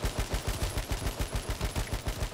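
Rapid automatic gunfire from the video game H1Z1, a continuous fast burst of evenly spaced shots with a dense, rattling rhythm and no talking.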